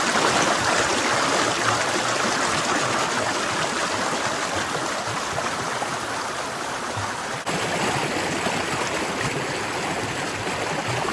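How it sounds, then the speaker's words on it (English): A creek swollen with spring snowmelt rushes past in a constant, loud broadband roar of fast water, steady and close throughout with no voices. "is running so fast."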